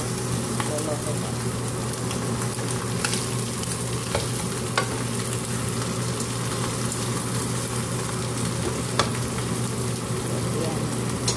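Garlic frying in its own rendered fat in a pan, with no lard added: a steady, dense sizzle runs throughout, close and even, with occasional stirring clicks and scrapes.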